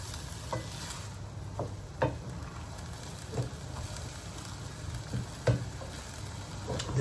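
Mushrooms stewing with risotto rice in a pot for a mushroom risotto, giving a soft, steady low simmer with gentle bubbling and a few light stirring knocks at intervals.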